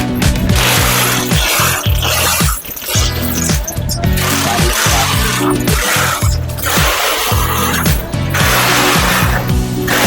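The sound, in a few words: tightening bolts on solar battery mounting bracket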